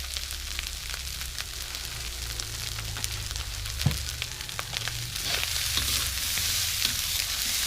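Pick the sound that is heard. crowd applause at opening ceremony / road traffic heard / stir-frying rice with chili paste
stir-frying rice with chili paste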